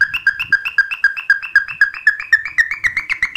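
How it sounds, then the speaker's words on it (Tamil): Second type of siren horn fitted to a modified Honda Splendor motorcycle, sounding loud and close on its own as a fast train of sharp electronic chirps whose pitch slowly climbs. "அடுத்து இது வந்து பார்த்தீங்கன்னா டைப் 2. இதுதான் நிறைய பேர் யூஸ் பண்ணிகிட்டு இருப்பாங்க."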